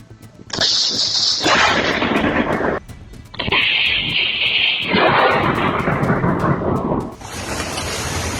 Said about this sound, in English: the lightning struck the tree instead of the nearby family